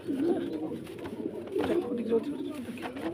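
A fancy pigeon at a pigeon farm coos in low, throaty bursts close by, with soft rustling and faint background noise around it.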